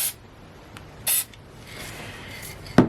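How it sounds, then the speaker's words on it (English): An aerosol spray can, not a pump sprayer, gives a short hissing burst onto cardstock from about a foot away. It is brief and fairly close, with a quiet room around it and a small knock of handling near the end. "you're going to be back at least a foot when you spray this"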